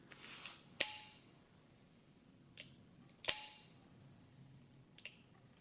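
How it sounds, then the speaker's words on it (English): Sharp metallic clicks from a revolver's trigger being dry-fired during an IDPA equipment safety check, four separate snaps spaced over several seconds, close and crisp in a quiet room. "When we're releasing the trigger, we make sure that the trigger comes out on this particular gun."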